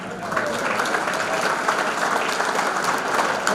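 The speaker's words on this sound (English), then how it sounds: "Give Eagle Communications a round of applause." Crowd applause at a sports hall of fame ceremony, a full, even roar of clapping from a large audience that rises slightly after a soft start and continues unbroken.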